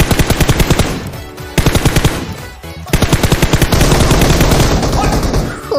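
Automatic gunfire in Game for Peace (PUBG Mobile), loud rapid bursts of shots with brief pauses between volleys, then a sustained stretch of dense firing near the end.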